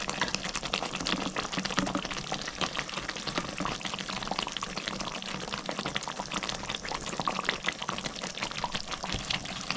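Mustard oil poured over fish simmering in a mustard-poppy seed curry, a steady soft liquid trickle over continuous sizzling and bubbling in the pan, with no talking.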